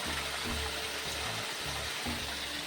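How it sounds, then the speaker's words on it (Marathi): Water gushes steadily out of a crack in a village dam, a constant dense rushing wash with a low pulsing undertone, fairly quiet and with no voices. "किती पाणी वाया जात आहे खाली"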